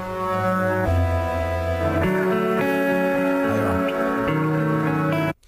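Short chopped musical fragments with sustained tones jump between sections, sounding slightly muffled and lo-fi, then cut off abruptly at the end.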